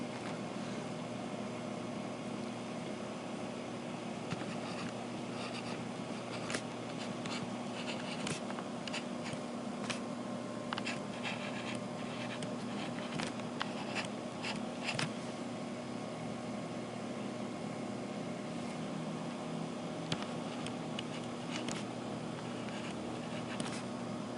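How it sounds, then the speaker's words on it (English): A pen scratches out numbers by hand, with faint strokes and taps in uneven bursts over a steady background hum, and no talking. "Compare the numbers you get to the ones I'm going to write here."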